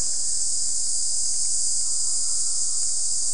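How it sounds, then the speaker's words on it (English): Cicadas recorded in Madagascar, a dense, loud, unbroken high-pitched buzzing drone that fills the scene with no voices. "This is cicadas."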